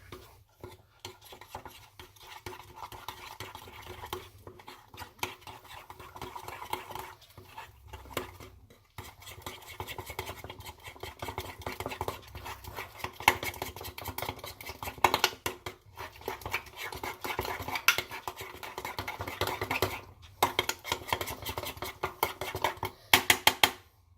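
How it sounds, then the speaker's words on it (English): A utensil scrapes and clicks against a bowl while keto bread batter is mixed with melted butter, uneven close stirring and tapping that grows busier toward the end. "2 tablespoons of melted butter, mix it all together."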